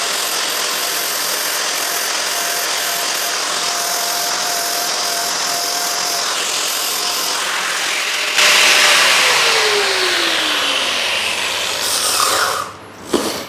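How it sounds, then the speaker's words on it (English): A flap disc on an angle grinder cuts a chamfer along the edge of a hardened 58 Rockwell steel anvil, giving a loud, sustained whine and grinding roar that intensifies partway through before a brief dip near the end. "I'm literally just going to use the edge of the flap disc to just get in there and cut a quick chamfer on the edges"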